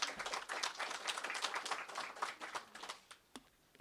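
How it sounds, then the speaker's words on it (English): Audience giving a round of applause at a conference presentation on e-mobility and clean air, a dense burst of clapping that thins out and fades over a few seconds, fairly faint. "Let's give her a round of applause."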